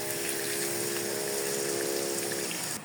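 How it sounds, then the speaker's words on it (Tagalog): Coconut milk poured into simmering chicken curry, a steady, close liquid gush and hiss lasting under three seconds and stopping abruptly, with no talking. "Then, isunod na po natin yung gata."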